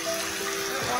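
A little water is poured into a chicken lollipop marinade, giving a brief, steady trickling wash for about a second.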